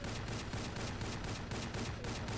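Rapid gunfire in the video game Rogue Trooper, a dense continuous rattle of repeated shots that stays loud and steady throughout, with no talking.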